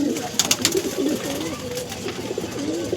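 Pigeons, a pair of Andhra breed birds, coo in soft repeated rolling calls through the whole stretch, close by, with a few sharp clicks and rustles over a light background hum.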